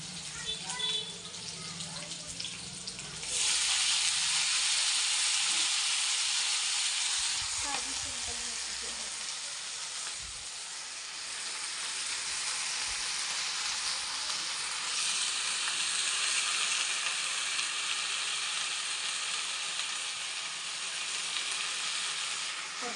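Chili and garlic fry in hot oil in a pan, giving a loud, steady, close hiss that builds after a quiet start and holds evenly to the end, with faint stirring scrapes underneath.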